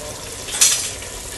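Chicken kabsa being stirred in a frying pan: a brief scraping stir over a continuous soft sizzle.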